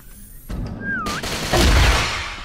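Rapid gunfire rings out in an online shooting game as a player fires a 60-round weapon, a quick burst of sharp shots followed by a louder, booming volley, with a brief whistling tone between them.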